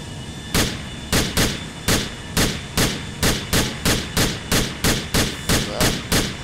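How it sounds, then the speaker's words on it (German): A 9mm Beretta pistol from a GTA IV weapon mod fires about fifteen sharp shots, single and in quick pairs at an uneven pace, each loud crack ringing briefly. "dritte Waffe eine 9mm Beretta"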